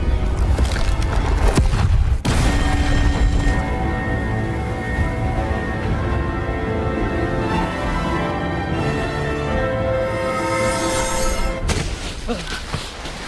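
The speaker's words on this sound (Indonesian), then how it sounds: "tiba-tiba ia dikagetkan dengan ledakan yang hebat" A huge explosion booms out in a scene from the animated Avatar: The Last Airbender, opening with heavy, dense low rumble and a sharp crash near two seconds, then sustained roaring debris and music-like tones that ease off near the end.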